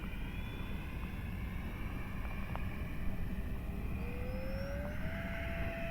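A Habu 70mm electric ducted fan RC jet on a 3S battery passes at low throttle, a steady whining fan hiss with a rising tone near the end, distant and even, no speech.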